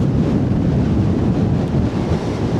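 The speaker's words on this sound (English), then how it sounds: "Really, really windy." Strong wind on a hilltop roars and buffets the microphone in a dense, constant rumble with slight gusting surges.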